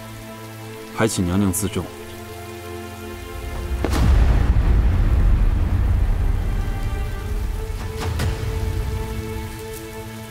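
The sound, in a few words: rain falling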